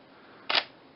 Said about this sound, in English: This is the fastest I can take photos using USB and GPhoto 2.